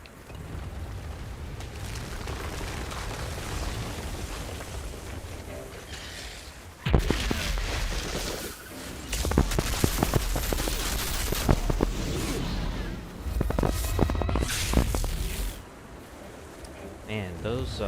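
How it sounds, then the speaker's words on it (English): Explosions and rapid gunfire from the Outriders video game, loud bursting blasts crackling in dense clusters through much of the stretch, with a quieter opening and a voice talking over parts of it. "Man, those explosions are crazy."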